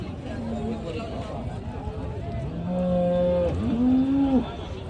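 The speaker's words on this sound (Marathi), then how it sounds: "आता आपण काही बैल पण दाखवतो तुम्हाला तिकडे बैल आलेली बघा" Bulls at a cattle market in Kopargaon give loud, drawn-out moos, two low calls in quick succession near the end, over a background of crowd murmur and people talking.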